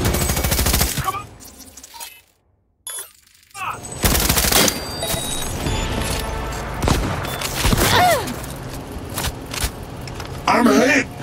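Sniper and automatic gunfire in a Cyberpunk 2077 Phantom Liberty firefight, dense loud bursts with sharp cracks and a brief lull, mixed with game effects and voices speaking over the shooting.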